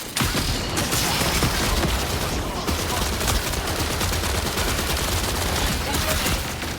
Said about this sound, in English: They were shooting something in there.